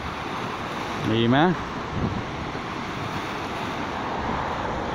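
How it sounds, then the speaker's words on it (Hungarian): Wind-driven waves break steadily on Lake Balaton at the Tihany peninsula, a continuous close wash of surf mixed with wind rumble on the microphone, with a short spoken word near the start. "Ezt nézzétek, csak úgy vannak a hullámverések, hogy na még, hát fúj a szél, és azért vannak ekkora hullámok."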